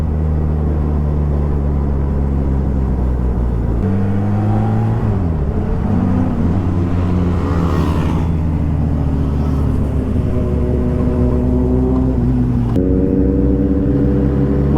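A Kawasaki Z900 superbike fitted with an SC Project exhaust is ridden on a mountain road, its loud engine droning steadily and rising and falling in pitch as the rider shifts and accelerates throughout.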